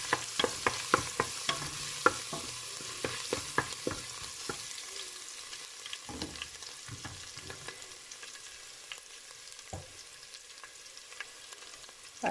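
A spoon stirs chicken macaroni in a pan with blended tomato and no onions, giving repeated close, sharp scraping strokes in a steady rhythm at first, then sparser stirs over a soft sizzle, with no voices.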